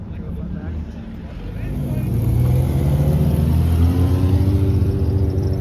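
A BMW M car's engine rumbles low and steady as it pulls into an Arizona car meet, growing louder and closer after a couple of seconds amid crowd chatter and talk.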